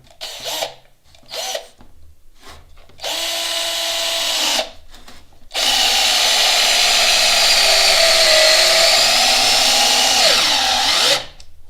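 A Parkside PABS 20-Li D4 cordless drill drives a large screw with a washer into wood, whirring loudly in short bursts and then in one long, straining run whose pitch slowly shifts under load.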